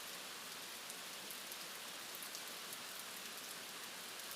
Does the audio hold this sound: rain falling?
yes